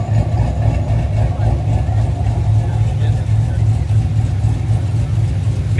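A Chevrolet Camaro ZL1 engine idles with a steady low rumble close by at a Nashville cars and coffee meet, small rises in pitch hinting at light revving, with background chatter and other vehicles around.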